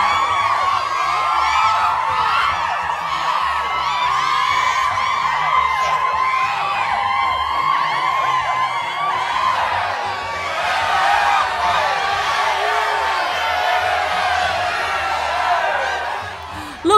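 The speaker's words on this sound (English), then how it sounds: "Oh, the crowds are so excited." A noisy, excited crowd cheers and chatters throughout at a pop star event, steady and fairly loud, with a voice speaking over it.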